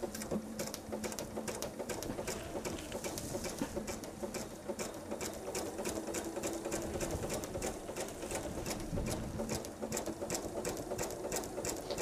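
Quilting around red squares on a patriotic table runner, a sewing machine hums softly and continuously with a faint rhythmic needle patter.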